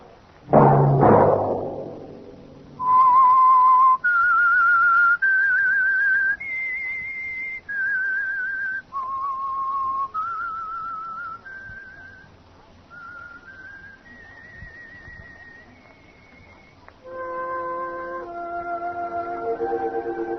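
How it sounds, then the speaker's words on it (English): A clear, loud whistled tune of sustained notes stepping up and down in pitch, ending on a fuller chord-like phrase, with no talking; the signature whistle of the 1947 radio drama The Whistler. "Let that whistle be your signal for the Whistler each Wednesday at this same time."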